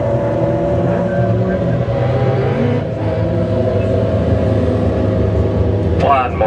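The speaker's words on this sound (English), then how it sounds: "Brand new driver to the track, just pulling out now, car number 12" A dwarf race car, number 12, rumbles steadily as it pulls onto a racetrack, engine drone continuous under an announcer's voice over loudspeakers.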